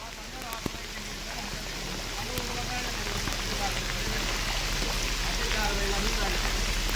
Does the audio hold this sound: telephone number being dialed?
no